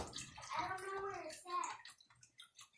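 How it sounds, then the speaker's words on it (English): Chicken broth pours and splashes steadily into a pot while a child and an adult talk over it. "then you want to pour the chicken broth over"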